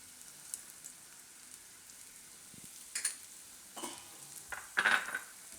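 Turmeric, coriander-cumin, salt and red chilli being stirred together in a pan, a faint low sizzle with a few louder scraping and tapping stirs toward the end, quiet and close.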